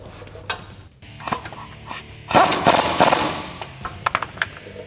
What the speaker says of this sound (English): I'm going to take my 21 millimeter wrench and my 21 millimeter socket on my impact gun.